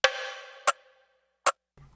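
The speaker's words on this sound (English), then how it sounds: "And then I found this extra little like percussive," An extra percussive sample with a bongo-like tone for a synthwave track: a ringing hit followed by two short, sharp strikes spaced apart, clean and isolated.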